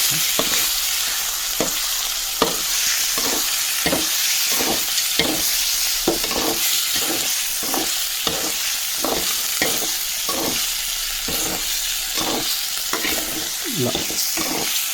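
Chicken frying in a pan for a chicken roast, a loud constant sizzle broken by rhythmic scraping stirs roughly every half second.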